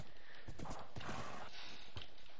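A horse gallops in Minecraft, rapid clip-clop hoofbeats in a quick uneven rhythm, close and fairly loud, with a brief whinny-like tone mixed in.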